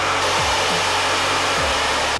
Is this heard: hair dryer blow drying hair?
yes